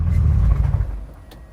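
A Honda Civic engine stalling out, a low rumble that sags and fades away within a second or so, close by, followed by near quiet with a faint click.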